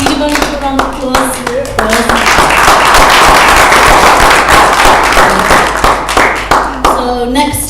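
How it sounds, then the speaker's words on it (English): Audience applause at a business conference, loud dense clapping that builds and holds for several seconds, with a speaking voice heard at the start and end. "So give them a round of applause."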